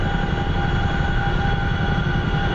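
A CH-47F Chinook helicopter hovers in the DCS flight simulator game, a loud, steady engine drone with constant rotor rumble and a faint whine, unbroken throughout with no voices.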